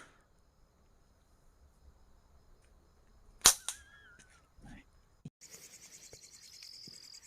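A single sharp, loud shot fired at a yellow target 30 metres away outdoors at night, followed by a short echo and a few scattered knocks, with crickets and insects chirping steadily behind.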